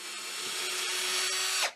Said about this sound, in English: I'll drill my two holes here and two holes here